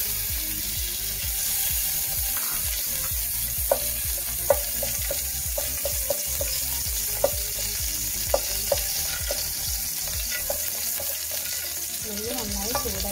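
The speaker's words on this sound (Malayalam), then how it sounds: "നമ്മൾ ചൂടായ പാനിലേക്ക് നെയ്യൊഴിക്കും" Ghee heating and sizzling in a hot pan for a beef biryani, a steady crackling fry with scattered sharp pops and clicks from spatula or utensil, fairly close, with no talking.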